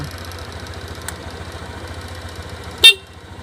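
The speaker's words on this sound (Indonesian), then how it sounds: "Klakson lagi normal" A short, sharp Honda Vario 150 Keyless motorcycle horn toot rings out once near the end, over a steady low engine idle running throughout.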